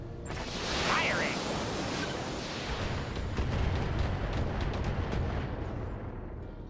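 Mech weapons fire in the BattleTech video game, heavy booming discharges and a rushing roar of noise that swell and sustain for several seconds, loud and close, with a faint whooshing projectile streak early on.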